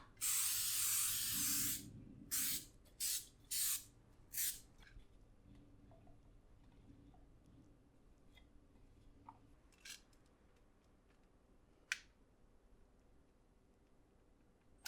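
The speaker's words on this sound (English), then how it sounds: "Let's give this a little grease." Cooking spray hisses onto a baking sheet for keto cinnamon cereal in several bursts: one long spray, then four short ones, with faint clatter and a brief tap later.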